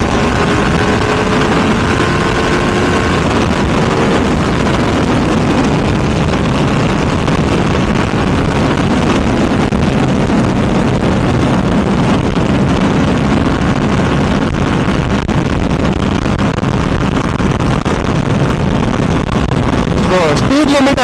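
A Ducati SF V2 motorcycle engine roars continuously under heavy wind buffeting, a dense and steady ride noise with no clear breaks throughout.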